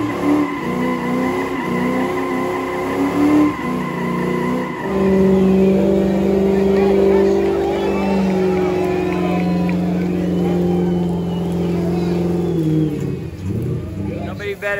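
A Ford Mustang Cobra burns out at Beaver Bar during Mustang Week, its engine holding a loud sustained roar with screeching tires, while crowd noise and voices carry around it.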